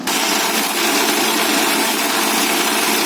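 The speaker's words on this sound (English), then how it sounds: "So this we will add in this mixer jar and we will nicely mix it." An electric mixer grinder runs continuously at a high, steady whine while blending mango puree, loud and close with no talk.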